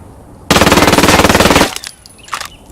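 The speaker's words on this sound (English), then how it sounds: "this is the recoil without compensating. Next up, we have recoil with compensation." Vector .45 ACP submachine gun firing full-auto in the game Ghost Recon Wildlands, a loud, rapid, even burst of about a second, then a few scattered metallic clicks and a brief clatter.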